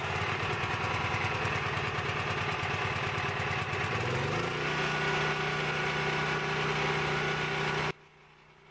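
A small off-grid generator, fitted with a new recoil starter and with its choke in, runs loud and close with a rough, throbbing engine note that settles into a steadier hum midway, then cuts off abruptly near the end.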